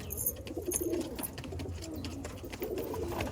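Madras pigeons in a pigeon loft giving soft, low cooing calls, repeated in a loose rhythm at close range, with a faint chirp or two above.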